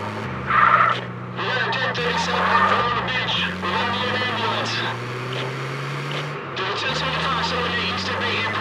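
An ambulance in the GTA San Andreas video game drives along with its engine revving up and dropping through repeated gear shifts, loud and steady, with a voice talking over it.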